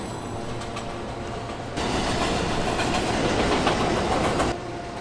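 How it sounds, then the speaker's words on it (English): A Manhattan-bound New York City subway 7 express train runs with a steady low rumble that swells into a loud, close roar of wheels and rails, then drops back to a quieter hum. "This is a Manhattan-bound 7 express train."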